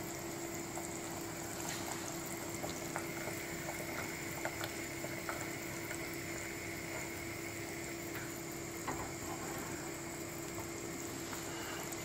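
Curry with aubergine boiling in a pot, a steady continuous bubbling and rolling simmer, close and even throughout with no speech.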